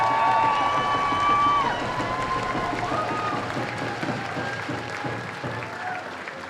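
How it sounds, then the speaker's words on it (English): Crowd applause with cheering at a heritage celebration grand entrance, honoring a dance group from Saxman; steady broad clapping throughout, with a voice and ringing tones fading out early. "Give them another round of applause."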